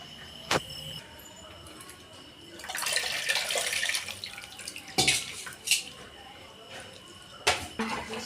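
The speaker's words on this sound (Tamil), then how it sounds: "இப்போ புளி கரைச்சிருக்கோங்க ஊற்றிக்கலாம்" Tamarind water poured into a pan of cooking curry, a soft broad wash of liquid pouring and splashing in the middle of the clip, with a few sharp clinks and taps before and after, faint and close.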